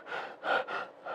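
A human voice imitates abnormal breathing, with three loud breathy breaths that swell in depth one after another, close and alone.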